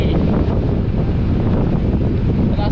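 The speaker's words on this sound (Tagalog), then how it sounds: "lakas ng hangin mga kabiyahe, para akong tatangayin" Strong wind buffets the microphone during a motorcycle ride on a road tour in the Philippines, a loud, constant roaring rush with no break.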